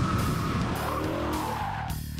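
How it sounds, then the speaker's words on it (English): A 2006 BMW M5 with a 500-horsepower V10 drives hard, its engine revving loud and close over a dense low roar, with a brief tire-squeal-like whine running steadily through the clip. "If you love the sound of a 500 horsepower V10 engine"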